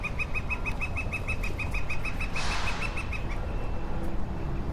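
Woodpecker near a bridge, a rapid run of about fifteen evenly spaced sharp taps, moderately close, followed by a brief rustling burst, over steady outdoor background noise.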